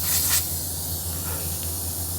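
Pressurized brake fluid bleeder on a BMW 650i releasing its pressure, a steady close hiss with a brief louder burst at the start, then an even rush of air.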